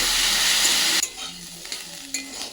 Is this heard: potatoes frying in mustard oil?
yes